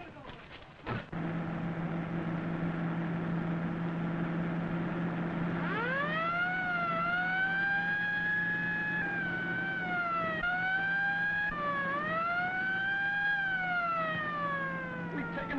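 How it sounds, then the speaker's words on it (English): A police car siren wails in rising and falling sweeps over a steady engine hum, starting partway in and continuing loud and close, with a sharp knock near the start. "We've taken a police car."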